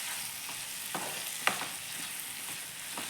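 Chopped tomato frying in a pan for chicken gravy, a faint steady sizzle with occasional soft stirring taps, no talking.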